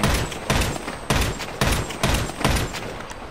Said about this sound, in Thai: นี่เป็นมาร์กแมน นี่จะยิงรัวได้